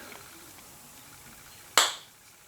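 Vice grips slipping off a spinning rivet: after quiet, a single sharp metallic snap close by, decaying quickly.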